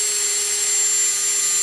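A high-pitched power drill whines steadily and loudly at a constant speed, close up, with no pauses, as it drills a quarter-inch hole for tapping.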